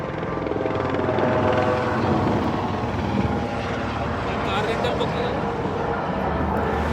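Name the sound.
tour helicopter flying over the Las Vegas Strip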